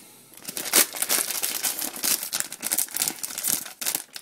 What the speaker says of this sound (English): Just rip the plastic bag.